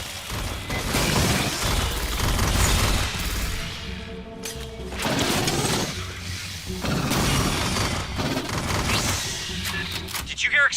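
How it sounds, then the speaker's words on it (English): Repeated booming explosions and bursts of gunfire roll through a busy, loud battle mix in the video game Aliens: Fireteam Elite, with a brief lull in the middle before the blasts resume. "Did you hear explosions just now?"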